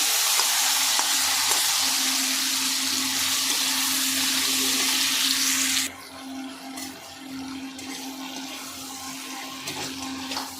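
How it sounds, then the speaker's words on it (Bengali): Vegetables with dried chillies and panch phoron poured into hot oil for a Bengali chhechra dish, a loud hissing sizzle that drops sharply partway through and continues more softly with light stirring. "তেলের মধ্যে দুটো শুকনো লঙ্কা দিয়ে দেবো তো এবার আমি এর মধ্যে পাঁচফোড়ন দিয়ে দেবো এবার এর মধ্যে সমস্ত সবজিগুলোকে আমি ঢেলে দেবো"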